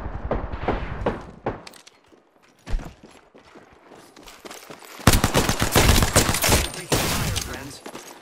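Gunfire in the battle royale game Apex Legends: a few sharp shots at the start, then scattered pops, then a heavy, sustained burst of rapid automatic fire and clattering impacts that grows louder, with a voice speaking briefly.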